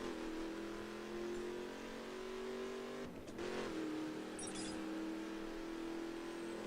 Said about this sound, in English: So now I just have to drive over there in my battered truck.